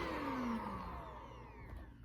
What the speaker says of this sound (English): so here you got like a little portable vacuum cleaner